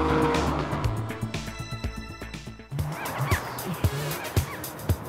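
Lamborghini Countach 5.2-litre V12 engine revving as the supercar drives, loud tonal engine note shifting pitch, then sharper bursts and squeals over the rumble.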